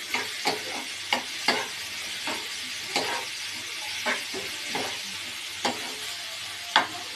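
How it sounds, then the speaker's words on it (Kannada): Chili powder is stirred into a tomato-onion mixture frying in oil, with a spoon scraping the pan in regular, fairly loud strokes over a continuous sizzle and no voices. "ಈಗ 1 ಸ್ಪೂನು ಖಾರದ ಪುಡಿ ಬೆರೆಸಿ ಚೆನ್ನಾಗಿ ಆಡಿಸೋಣ"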